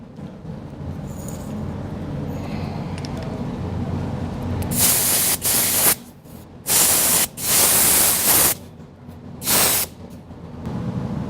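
An air-powered spray gun applies undercoating to a vehicle, firing in several loud hissing bursts of a second or so each, separated by short gaps, over a steady low background rumble.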